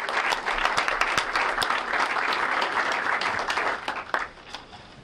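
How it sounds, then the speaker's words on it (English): An audience at a school event stands and gives students a round of applause: many hands clap fast and densely at full strength, then the clapping thins and fades away near the end. "stand up and give them a big round of applause"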